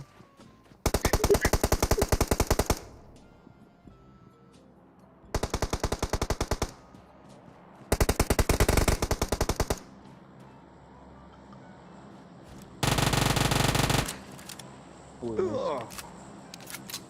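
Automatic gunfire in the mobile battle-royale game PUBG Mobile comes in four loud, rapid bursts separated by pauses, with quieter game sounds and a brief voice near the end.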